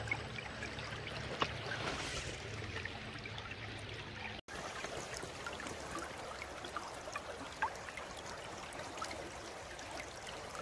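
Water rushes steadily through a gold sluice box in a Georgia stream, a continuous close trickling wash with brief splashy surges and no talking.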